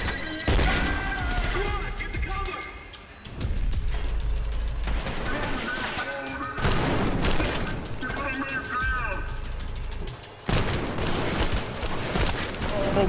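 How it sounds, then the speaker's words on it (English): Rapid bursts of automatic gunfire and heavy impacts in the first-person shooter Trepang 2, loud and nearly continuous with brief pauses, mixed with game effects and voices speaking over the combat. "Contact! Don't stop shooting!"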